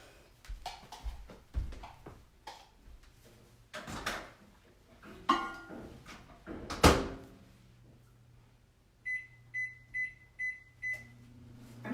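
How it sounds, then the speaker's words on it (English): A microwave oven hums steadily while melting almond bark for candy, with kitchen clatter and knocks nearby, then five short, evenly spaced beeps sound as it finishes. "I'm learning how to use my microwave."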